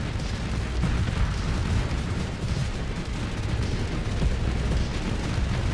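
Constant, dense rumbling booms of cannon fire and explosions fill a space battle video game fight, with Reapers and Giga Cannons stripping a ship's armor, loud and continuous with no pauses and no talk.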